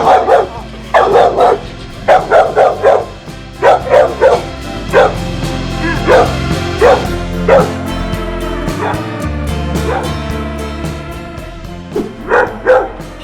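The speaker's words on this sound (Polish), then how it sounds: "Wściekły pies" Angry dog barking close by, rapid bursts of loud barks in clusters with short pauses, some yips mixed in, over low outdoor background noise.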